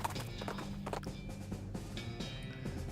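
Horse hooves clip-clop in steady rhythm in the video game West of Loathing, game music and effects layered underneath, fairly close and continuous throughout.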